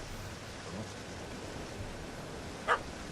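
A single short dog bark rings out once near the end, aimed at a cat up a tree in the game The Witcher 3, over a steady rain-like ambient hiss.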